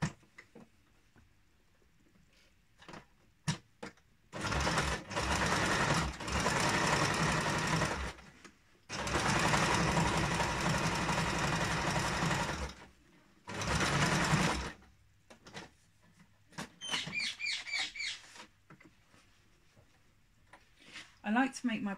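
Sewing machine zigzag stitching along a fabric edge for a kick scooter bag, running in three long loud bursts separated by short pauses, with quieter clicks and handling noises between and after.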